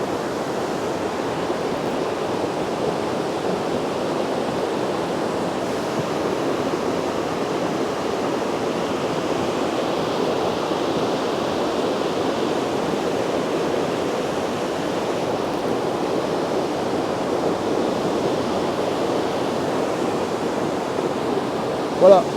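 Alpine torrent in flood churning boulders and mud, a steady, loud broadband roar of rushing water that holds constant throughout with no pauses.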